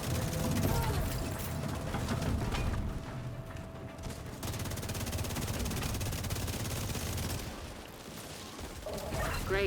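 Sustained, dense video game gunfire with rapid automatic bursts that roll almost continuously, loud and close, dipping briefly around the middle before surging again.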